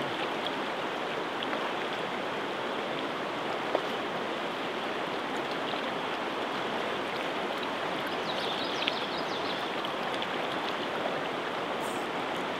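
Fast-flowing stream water rushes steadily and close by throughout, a dense continuous wash with no voices, heard while ultralight trout fishing.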